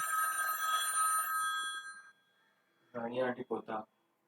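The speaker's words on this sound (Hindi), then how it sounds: "कोई फ़ोन सुनना देखो" An office telephone rings with a steady electronic trill that stops after about two seconds, followed by a brief spoken phrase from a person nearby.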